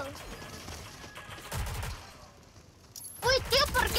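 Gunfire in the shooter video game Rogue Company, bursts of rapid shots and impacts, some loud and close, others quieter, with players talking excitedly in Spanish.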